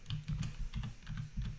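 Brisk typing on a computer keyboard, a quick run of light clicking keystrokes close by, with no voices.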